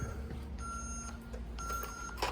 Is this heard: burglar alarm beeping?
yes